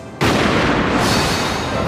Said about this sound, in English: At daybreak, the silence was broken by the sound of muskets.